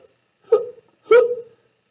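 A voice imitates a cartoon skeleton hiccuping, with two short, sharp hiccups about half a second apart and quiet between them.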